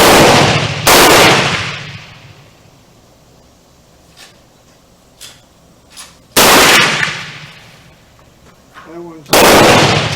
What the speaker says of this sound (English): We'll do a 5-shot group.